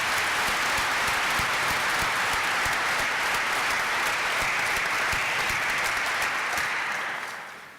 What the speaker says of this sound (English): Before I start, I'd like you to join me in giving a round of applause for Dean Kettle for all the hard work he's d